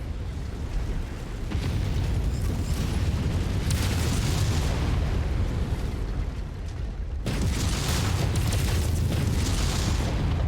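Heavy booming blasts from a tank being destroyed in a mech combat video game, sustained and loud across the stretch, with a brief dip before a fresh burst of explosive rumble.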